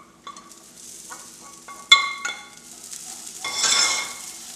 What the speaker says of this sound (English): Just kind of stir thoroughly and get it all mixed together.